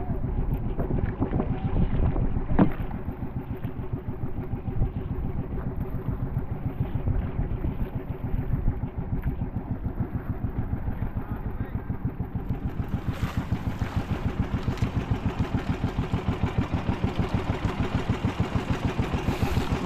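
A large wooden outrigger-style boat's engine running steadily at sea, a loud, continuous low rumble with a fast regular chug and wind noise across the microphone throughout.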